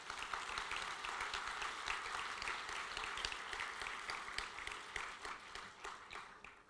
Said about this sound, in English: You should applaud for this.